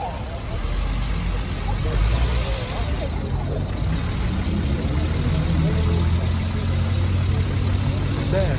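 A Mercedes cabriolet idling at an outdoor car gathering on a town square, a steady low engine rumble held throughout, with people talking nearby over it.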